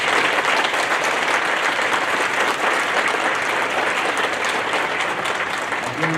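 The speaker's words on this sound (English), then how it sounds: "Please join me in a well-deserved round of applause for these people." An audience at the 2023 BOSS high school graduation ceremony applauds the seniors with steady, full clapping that holds evenly throughout, with a crowd texture and no speech on top.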